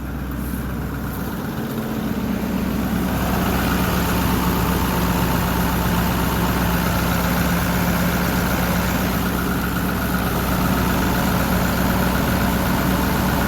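2009 Ford F250 with a 6.4 Powerstroke diesel idling cold, with injector trouble and some blow-by: a loud, steady low rumble and clatter close by, unchanging throughout and with no voices.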